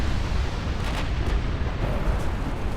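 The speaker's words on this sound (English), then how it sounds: "Ammo explosion." Ship ammunition explosion in Ultimate Admiral Dreadnoughts naval battle, a dense rumbling blast with bursts of crackle near the start and middle over continuous low battle noise.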